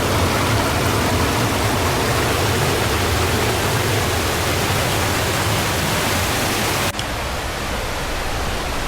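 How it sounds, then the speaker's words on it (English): A small, noisy creek at about half its normal flow along Beaver Lake Trail in Sitka, Alaska, roars as a dense, constant close-up rush of water, dipping slightly in level near the end. "Noisy little creek."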